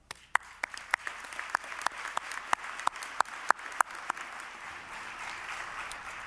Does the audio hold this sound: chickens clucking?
no